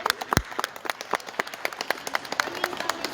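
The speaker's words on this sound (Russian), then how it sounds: "Аплодисменты" Scattered hand clapping comes from a modest audience at a commemorative ceremony. The crisp, close claps land unevenly with small gaps, with no voices over them.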